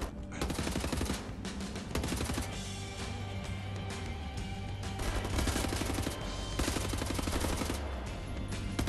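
Dense, continuous automatic gunfire and overlapping shots from the Wolfenstein video game, loud and sustained throughout with layered game sound effects and no talk.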